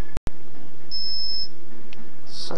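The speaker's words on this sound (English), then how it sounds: "whenever your VMU is processing, it will beep and skip" A Dreamcast VMU running the DreamSNES emulator gives a single thin, high electronic beep lasting about half a second, bracketed by a couple of sharp clicks.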